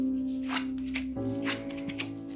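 Tarot cards shuffled and handled by hand in a few soft, brushing bursts, quiet and close, set over a steady low hum.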